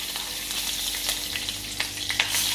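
Curry leaves hit hot oil with asafoetida for a tempering, giving a steady, close sizzle with crisp spattering pops and a few brighter crackles throughout.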